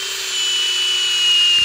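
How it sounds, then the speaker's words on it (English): A power drill bores tap holes into a maple tree for sap, a loud, steady high whine that holds throughout without talk. "drilling holes for the sap"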